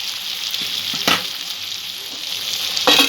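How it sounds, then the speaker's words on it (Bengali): Potato pieces frying in a pan with onion and tomato for a kankrol (spiny gourd) curry: a steady broadband sizzle with a couple of brief stirring scrapes, close and fairly loud, no talk. "পেঁয়াজ আর টমেটোর সঙ্গে আলুটা একটু ভেজে নেব।"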